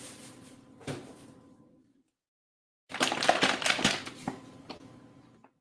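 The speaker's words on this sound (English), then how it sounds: "if you hear me rustling around over here, it's because I got my painter's plastic all ready to go" Painter's plastic sheeting being handled indoors gives short crinkly rustles, then a pause, then a louder, denser burst of crackling, close to the microphone.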